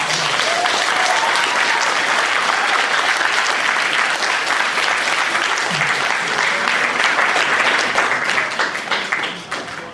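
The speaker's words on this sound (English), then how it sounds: "let's give them a round of applause" Loud, dense applause from a large crowd at a Sega convention panel, sustained for several seconds before beginning to taper off.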